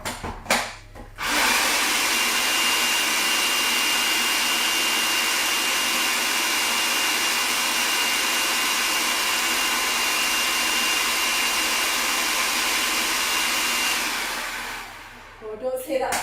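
Electric whisk or hand mixer whirring continuously at high speed through vegan quiche batter, loud and close, starting abruptly after a few knocks and winding down near the end.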